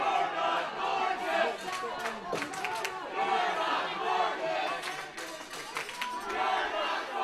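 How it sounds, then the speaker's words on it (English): A wrestling arena crowd at a Ryse Wrestling women's match roars and shouts in rising and falling waves, with scattered cheers and a few claps in the noisy hall. "You can hear the crowd."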